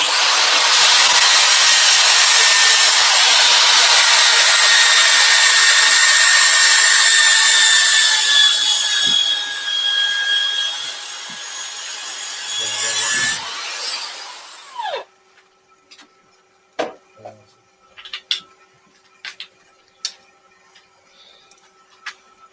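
A steady, loud abrasive whir of 80-grit sanding on a spinning wooden bowl runs for about thirteen seconds, then stops, leaving a few faint scattered clicks and knocks.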